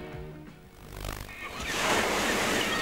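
Ocean waves roll in at a beach, swelling from a low rumble into a louder, hissing wash of surf that builds toward the end.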